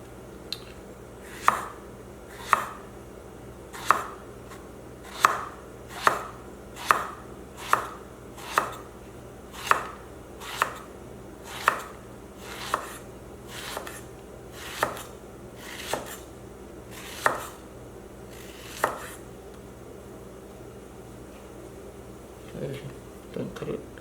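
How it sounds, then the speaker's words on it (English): A knife chops fairy tale eggplant into medium dice on a board, with about sixteen sharp, evenly spaced cuts close by. Faint talk is heard in the background. "medium diced eggplant."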